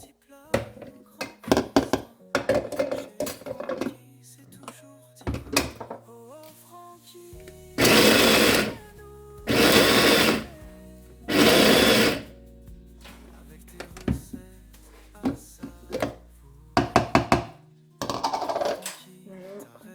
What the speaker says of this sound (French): Enfin, mixer un peu mon oignon.